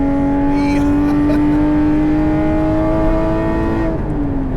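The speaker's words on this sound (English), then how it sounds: "With this mufflerless exhaust," A 2018 Porsche 718 Cayman GTS engine roars loudly through a mufflerless exhaust with a raw tone, its pitch rising steadily as it revs, then easing off briefly near the end.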